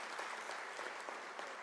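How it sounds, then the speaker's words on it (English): Audience at a university graduation ceremony gives a round of applause, a soft, even patter of many hands heard from a distance, faint and continuous across the brief moment. "She needs a round of applause."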